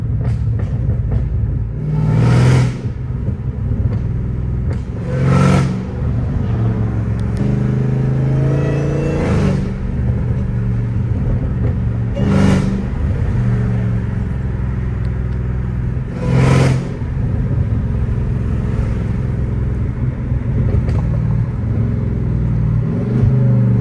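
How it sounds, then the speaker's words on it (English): A straight-piped Dodge Hellcat Redeye with a supercharger drives along a street, a loud continuous deep exhaust rumble heard from inside, swelling with repeated throttle surges and gear changes. "the supercharger whine is literally everything"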